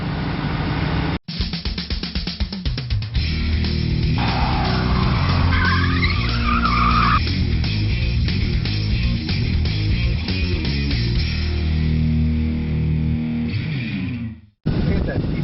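A 1971 Dodge Coronet engine cranks with rapid rhythmic starter pulses after a starter replacement, then catches and runs with a loud, steady roar up close for over ten seconds before cutting off briefly.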